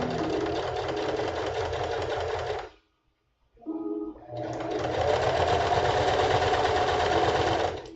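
A sewing machine stitches a seam with basting thread in loud continuous runs, stopping for about a second of near silence, then a short burst and a long steady run, with no voices.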